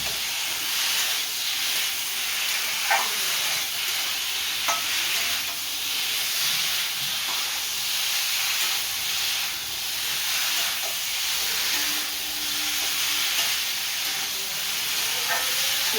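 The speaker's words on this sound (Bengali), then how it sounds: "ঝিঙে আলুটা দিয়ে একটু কষিয়ে নিলাম" Ridge gourd and potato being fried in a spiced masala, giving a steady sizzle and hiss with faint stirring scrapes throughout, no talking.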